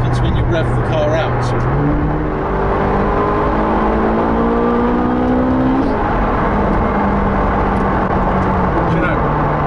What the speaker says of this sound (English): I'd like to show you what happens when you rev the car out.